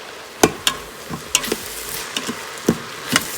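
Sliced onions with ginger garlic paste in a hot pot, a soft sizzle under repeated sharp scraping clicks of a spoon stirring, close up with no talking.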